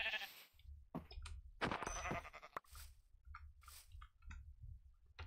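Sheep bleating in Minecraft, several short separate bleats with quiet gaps between them and faint chewing-like clicks underneath, with no talk over them.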